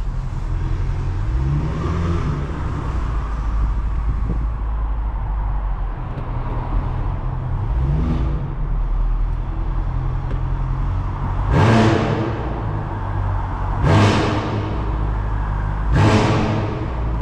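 A tuned Stage 2 BMW F90 M5 V8 rumbles at a steady idle heard from inside at night, then gives several sharp throttle blips, three loud rising revs near the end, each dropping quickly back to idle.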